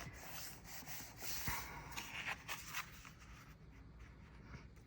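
Sheets of paper for journal pages are folded and creased by hand. The soft rubbing and swishing sounds are faint and close, with no speech.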